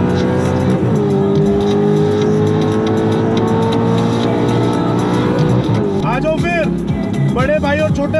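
Supercars including a Ford Mustang and an Audi R8 race on an open road, engines revving loud and close with a sustained roar, shifting pitch, then sharp tire squeals near the end, all beneath excited talking.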